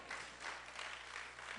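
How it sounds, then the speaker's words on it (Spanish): A church congregation claps together in a soft, diffuse round of applause, distant and steady, with faint voices mixed in. "Dale un aplauso al Señor en esta hora."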